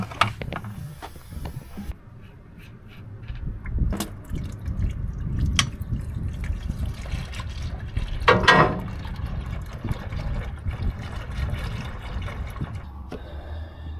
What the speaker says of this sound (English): Let's drain the oil out of this thing.